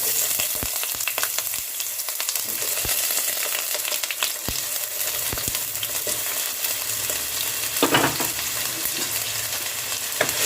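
Potatoes fry in hot oil in a wok, browning to a reddish crisp; a dense, steady sizzle runs throughout, punctuated by sharp clicks and scrapes of a spatula stirring the pieces.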